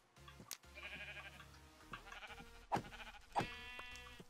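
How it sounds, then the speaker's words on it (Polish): Sheep bleat in Minecraft, a few short soft calls over a steady background of game ambience. "Tutaj mamy też owce."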